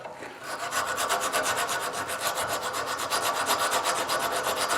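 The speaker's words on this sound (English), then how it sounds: "you can just get in and dig through the rust" An aggressive rasp-like file scrapes rust off metal in fast, rhythmic back-and-forth strokes, close and continuous for several seconds with no talking.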